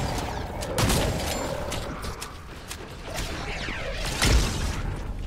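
Shotgun blasts boom in Fortnite Horde Rush, a couple of loud, close shots standing out against a busy background of game action and mechanical clatter.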